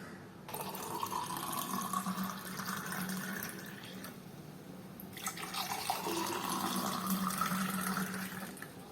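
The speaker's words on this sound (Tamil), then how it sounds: "இப்போ இதை ஒரு கிளாஸில் மாற்றிடலாம்." Freshly made curry leaf juice is poured into a glass in two separate pours, each a close, steady trickling splash of liquid with a short pause between them and no speech.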